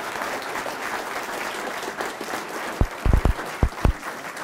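A lecture audience applauds as a speaker rises to talk, a steady wash of clapping across the room, with a few louder, closer thumps near the end.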